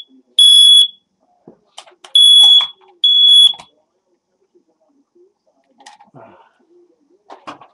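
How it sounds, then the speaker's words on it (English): A CO2 alarm in a basement beeps three times with piercing high tones in short bursts. Faint voices and rustling follow in the quiet gaps afterward. "CO2 alarm off."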